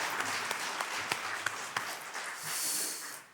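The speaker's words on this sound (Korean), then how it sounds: "영광의 박수를 하나님께 드리겠습니다." A crowd applauds at a distance during a church worship service, a dense wash of clapping with a few sharper claps standing out, fading toward the end.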